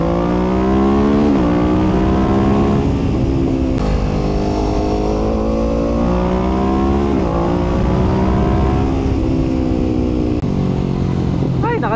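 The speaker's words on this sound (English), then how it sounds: "testing natin ang performance ng Ninja 650 when it comes to the twisties" A 2020 Kawasaki Ninja 650 motorcycle ridden hard through twisty roads, its engine loud and close, climbing through revs with repeated gear shifts and throttle rises across the run.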